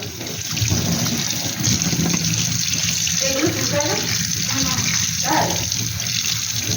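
Crabs being rinsed under a running tap, a continuous splashing stream of water with faint handling sounds mixed in, close and steady throughout.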